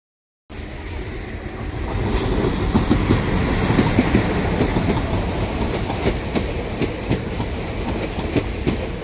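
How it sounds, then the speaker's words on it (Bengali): A passenger train rolls through Berhampore Court station on its way toward Murshidabad and Lalgola, a loud, continuous rumble with rhythmic clickety-clack of wheels over rail joints, close by and alone. "এই ট্রেনটি বহরমপুর হয়ে মুর্শিদাবাদ স্টেশন হয়ে একদম লালগোলা পর্যন্ত চলে যাবে।"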